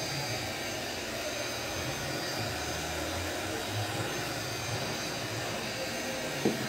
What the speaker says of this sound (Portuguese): só que o secador faz muito barulho hoje, Sara.